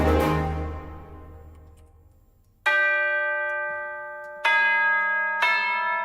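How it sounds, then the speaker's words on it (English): Tubular bell in an orchestra, recreating a film's main title score: one deep ringing strike decays slowly, then three more bright chimes at about three-second and one-second gaps, each ringing out with rich overtones, with no voices. "Tubular bell, very big part of this."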